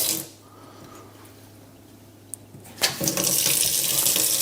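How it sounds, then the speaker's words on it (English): A repaired kitchen filter tap with a new ceramic cartridge, quiet at first, then opened so water gushes out in a loud, steady stream for the last seconds. "That's our filter tap, the one that was dripping."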